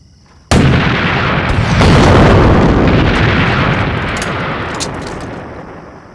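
Cannon fire and shell explosions in a Chinese war film set during the anti-Japanese war, with an ambush on a lake: a sudden loud blast after a brief hush, then a sustained roaring rumble of gunfire that slowly fades.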